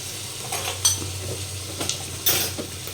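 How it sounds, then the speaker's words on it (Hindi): Onions fry in a pan with a low, steady sizzle, while a utensil stirs and scrapes against the metal, giving a few sharp clinks and scrapes, close and with no voices. "पहले प्याज को अच्छे तरीके से हम भुनाई करेंगे"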